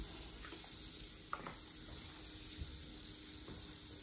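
Butter and a little oil warm in a pan for a mushroom duxelles, giving a faint, steady sizzle with a few light clinks and taps scattered over it.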